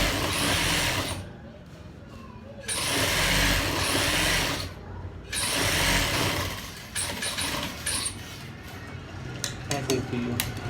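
A sewing machine double stitching a baby girl suit runs in steady whirring stretches, pausing and restarting several times, close and moderately loud, with a voice talking over parts of it.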